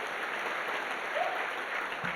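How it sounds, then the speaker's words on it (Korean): Congregation clapping together at a Christmas service in a church, a steady dense wash of applause held evenly throughout at a moderate level, with no talk over it. "우리 박수 한번 하겠습니다."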